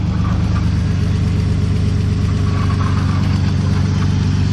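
A BMW car engine running at a steady idle after being started, loud, close and continuous low rumble with no talk.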